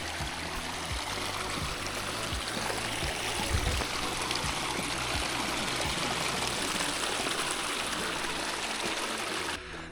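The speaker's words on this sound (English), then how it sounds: "with a creek flowing from the outlet of Gardesi Lake next to us the entire time" A mountain creek flows out of Gardisky Lake's outlet beside a steep trail to Tioga Peak, a constant close rushing and gurgling of water with a few soft low knocks.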